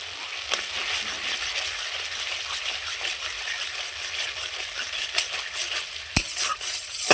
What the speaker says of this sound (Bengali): লবণ আর হলুদ দিয়ে মশলাটা খুব সুন্দর করে কষিয়ে নেব